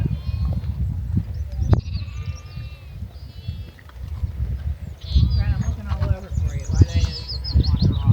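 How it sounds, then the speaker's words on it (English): Sheep bleat several times at a distance on the Ring of Kerry, Ireland, wavering calls over low wind rumble, with birds chirping faintly and a person speaking at times. "Oh, there's sheep down here."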